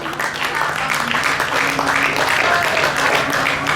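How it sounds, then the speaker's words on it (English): An audience at a state fair stage show gives a burst of applause, dense clapping from a crowd heard close and fairly loud for a few seconds, with a voice speaking over it. "All right, give him a big round of applause."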